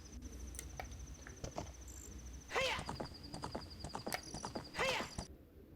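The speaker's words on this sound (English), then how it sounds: "No, Link, get on the horse" Hooves clip-clop steadily from a horse in the video game Zelda: Ocarina of Time, with two loud whinnies breaking through above the rhythmic hoofbeats and a faint background hum.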